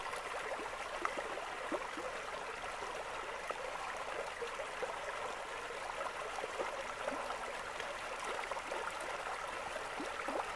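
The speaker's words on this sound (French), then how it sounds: "Le bonheur de suivre ce petit ruisseau là" A small stream trickles and burbles through a forest in Oignies, Belgium, a steady soft babble of water running nearby with no voices over it.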